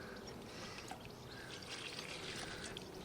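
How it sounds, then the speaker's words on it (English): Water pours steadily into method mix fishing groundbait, a faint continuous trickling splash at close range with no voices. "and add the water"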